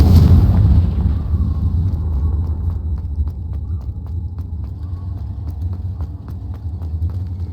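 A Confringo blasting curse bursts loudly in Hogwarts Legacy, opening with a heavy close explosion that fades into a sustained low rumble dotted with faint, regular ticking clicks.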